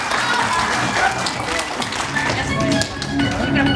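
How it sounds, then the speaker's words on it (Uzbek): Applause rises from a crowd of children and adults at a school alphabet celebration, dense steady clapping with voices mixed in. "Qani qarsaklar."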